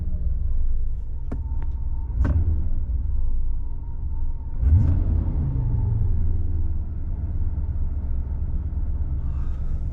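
A Mercedes 500SL with the M119 V8 engine runs with a deep, throbbing rumble. Two brief bursts of higher revving rise and then fall back to a steady idle, and nobody speaks.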